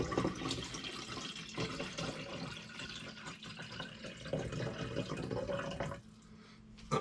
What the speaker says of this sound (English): Right, now I'm going to top up the solution to 600 mils.